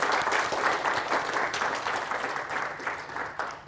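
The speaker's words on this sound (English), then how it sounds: "I think we should all clap and thank the organizers" An audience at an academic talk applauds steadily, a dense patter of clapping hands that holds at an even level from start to finish.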